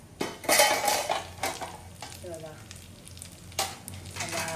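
Dried shrimp (jawla) fries in a pan as it is stirred, with crackling sizzle and metallic scraping of a utensil against the pan in uneven bursts, close and fairly loud with no talk.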